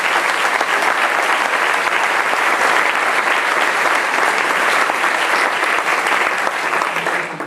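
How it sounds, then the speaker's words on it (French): A large audience applauds at an academic start-of-year ceremony, dense sustained clapping filling the hall for several seconds before tapering slightly at the end. "je vous propose qu'on vous applaudisse tous."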